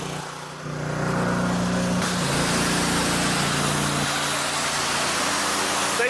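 Simpson 3600 gas pressure washer, warm engine with choke open, starts and runs steadily while spraying through a 15-degree tip, a loud continuous engine drone and water hiss after a brief quieter start.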